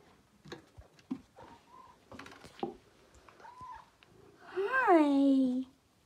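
A cat gives one soft, drawn-out meow near the end, close and clear, after a stretch of quiet rustling and small clicks.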